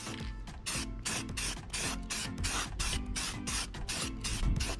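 A spray can lays light coats of primer onto minibike parts in repeated short hissing bursts, close and crisp, each spray separated by brief pauses in a steady back-and-forth rhythm.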